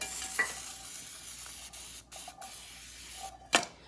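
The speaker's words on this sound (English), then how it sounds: "I'm gonna come in with some more Pam on top and on the sides" Pam cooking spray is sprayed into a cake pan as a continuous hissing spray with brief pauses and sharp clicks of the nozzle, close up, with no one talking.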